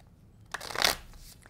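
A deck of tarot cards is shuffled once in a short riffling burst that swells and then fades, close by and quiet, with no one speaking.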